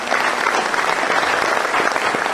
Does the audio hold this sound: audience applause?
yes